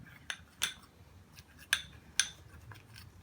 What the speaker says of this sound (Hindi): बनाना का पेस्ट जो हमने बनाया था उसके साथ हम इसको मिक्स करेंगे।